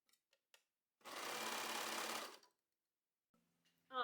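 A sewing machine stitching pink lace runs in a steady, close, even buzz for about a second and a half, with faint clicks before it and a brief voice at the end.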